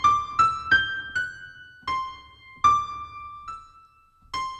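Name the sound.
keyboard playing a melody that changes direction stepwise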